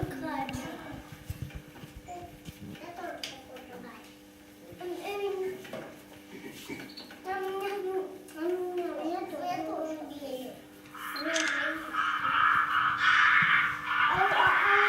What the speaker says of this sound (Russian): Грач, который мы сейчас, да, услышали, как, как кричит грач?